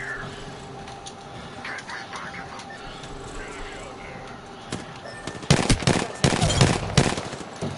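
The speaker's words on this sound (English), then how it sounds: "that's somebody else shooting at me now" Gunfire in the video game Apex Legends sounds as bursts of sharp rapid shots, faint at first, then louder and denser in the second half, mixed with other game noise.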